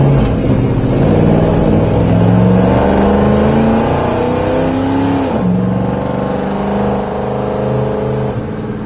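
A 1987 Dodge Ramcharger engine revs loudly and accelerates up through the gears, its rising roar dropping at a clean shift around the middle before climbing again, heard close from inside the vehicle.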